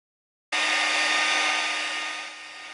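A heat gun warms the leather covering on a Polaroid SX-70 camera, giving a loud, steady blowing whir that starts abruptly after a brief silence and holds on alone, easing slightly toward the end.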